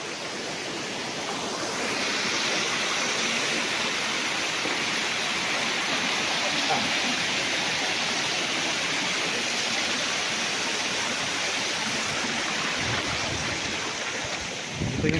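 Steady rushing flow of water from a natural spring on a farm lot in Lucban, Quezon, continuous and fairly loud throughout with broadband wash, little else audible.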